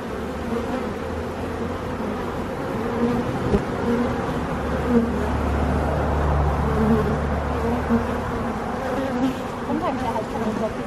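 A honeybee swarm hums around a hive box outdoors, a dense continuous buzz of many insects close by, with a faint low rumble beneath.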